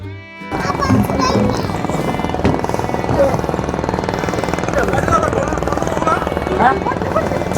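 A motor trawler carrying passengers on the river at Chandpur chugs with a loud, close, rapid engine thump that runs steadily throughout, while people talk over it.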